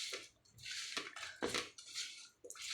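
Mashed food being mixed by hand with beet salt and mustard oil in a bowl, heard as a close series of soft squelching, scraping strokes and light clinks in quick bursts with brief pauses between.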